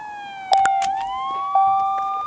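A police car siren wails close by, a steady rising and falling electronic tone near a frontal crash scene, with sharp knocks at the start and a renewed loud burst midway; no talking.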